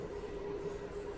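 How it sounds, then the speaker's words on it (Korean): A London Underground train rumbles loudly and steadily, with a constant low roar and a faint whine from the carriage during a ride home. "또 시끄러운 지하철을 타고"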